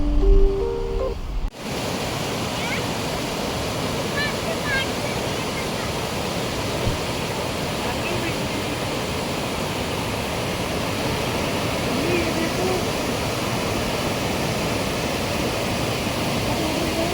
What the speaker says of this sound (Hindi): आप बीरथी वाटरफॉल पहुंच गए हैं